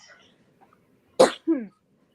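A single sharp sneeze bursts out close to the microphone during an online video call, in two quick parts, with only faint murmuring before it and near silence around it.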